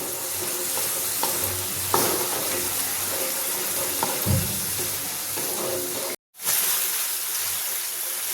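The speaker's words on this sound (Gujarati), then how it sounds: "ટામેટાની પ્યોરીને પણ બરાબર સાતળી લઈશું" A thick tomato puree sizzles and bubbles steadily in a pan, with occasional stirring scrapes and a brief cut in the sound near the end.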